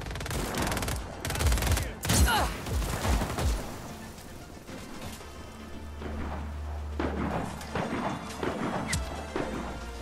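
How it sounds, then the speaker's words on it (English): Shotgun fire from a tower in Just Cause 4, heard as a burst of loud, closely spaced blasts in the first two seconds, then a few scattered shots over a low steady rumble. "Is someone actually firing a shotgun from on top of that tower trying to kill me?"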